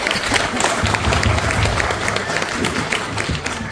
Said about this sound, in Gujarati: આ બાળકોને તાળીઓના નાદથી વધાવી લઈએ